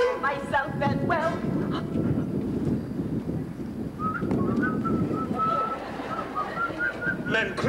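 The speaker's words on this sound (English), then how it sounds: "Oh, was I whistling?" Someone whistles a tune in a scene from The King and I; the melodic whistled line comes through mostly in the second half over a full, low background.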